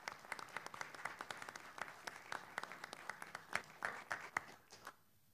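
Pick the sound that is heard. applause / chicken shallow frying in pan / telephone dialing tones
applause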